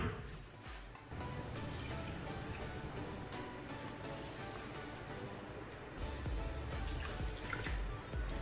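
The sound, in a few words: water poured into a pot of sugar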